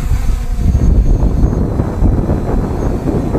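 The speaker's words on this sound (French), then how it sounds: "On arme les moteurs, décollage auto." MJX Bugs 3 Pro quadcopter motors roar steadily at close range during auto takeoff, a dense low buzzing rumble mixed with heavy wind buffeting against the microphone, with no voices.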